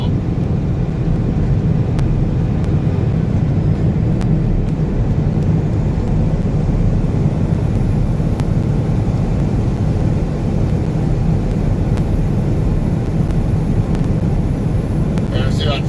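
A truck engine runs at high RPM in 8th gear on a highway drive, a dense, steady roar with road and wind noise heard from inside the cab, continuous and unbroken.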